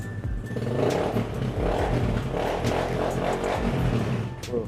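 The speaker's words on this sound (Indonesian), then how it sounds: "Kita geber tipis-tipis." A used motorcycle engine at a dealer's lot revved lightly after a kick start, a close, steady, buzzing run with small rises and falls in throttle, alone with no talk.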